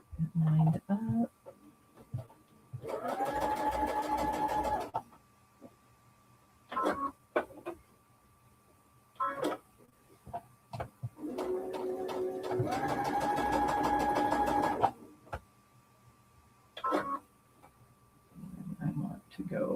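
Sewing machine doing straight line stitching on a quilt block, two sustained whirring runs of rapid needle clatter, close, separated by brief handling noises and spoken remarks.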